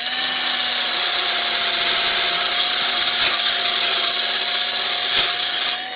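A power tool steadily rubs down rusty drain tap brackets from under a van, a continuous loud whirring grind close by with brief harsher scrapes, no voices.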